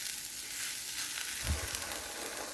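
Flour and vegetables including okra cooking in a pot as a gumbo roux starts, a soft continuous sizzle with a brief stir or scrape midway, fairly quiet.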